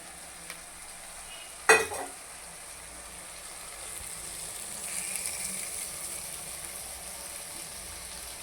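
In a pan, turkey berry curry ingredients fry with a steady soft sizzle after a sharp clatter of stirring at the start. The sound stays close and quiet, with no talking.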